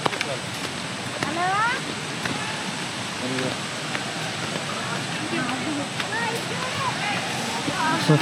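The continuous broadband rush of a waterfall at Maredumilli or Polluru fills the scene, loud and steady, with faint voices and birdlike chirps on top.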